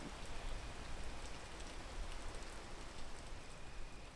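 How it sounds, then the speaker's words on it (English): Steady rain falls in a video game, an even hiss of drops and patter that holds at a constant moderate level for the whole stretch, with no talking. "Let's wait for this rain to let up some."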